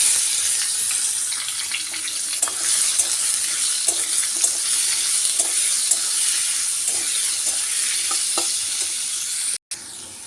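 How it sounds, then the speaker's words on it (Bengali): Potatoes and onions frying with whole spices, bay leaf and cumin in a wok, a loud continuous sizzle with soft intermittent stirring scrapes, briefly cutting out near the end. "আলু আর পেঁয়াজটা এখানে আমার ভালো করে আমি ভেজে নিয়েছি।"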